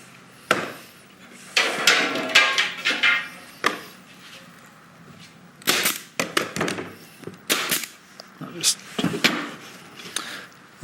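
Sharp repeated snaps of a pin nailer driving pins from the underside of a custom-built door, several clustered bursts interleaved with someone talking close by.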